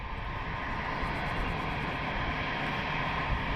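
An aircraft at London Luton Airport, a continuous broad engine roar with a high whine on top, steady and fairly loud throughout, no talk.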